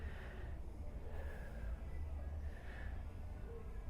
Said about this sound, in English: 2 deep breaths.